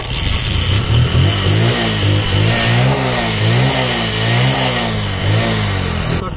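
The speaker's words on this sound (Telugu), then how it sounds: "బండి అయితే స్టార్ట్ చేద్దాం." A motorcycle engine flushed with diesel in its oil runs loud and close after starting, holding a steady idle with slight rises and dips in revs throughout.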